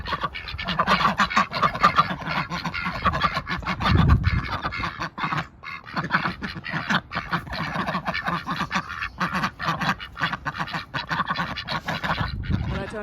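A group of backyard ducks, including young ducklings, quack and chatter continuously in a dense, loud, close chorus, with splashing and rustling as their water is changed in winter.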